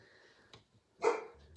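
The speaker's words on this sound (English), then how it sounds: "It's my dog's barking." A dog barking indoors in another room while someone makes cards, one faint short yip followed by a single louder, fuller bark, then quiet.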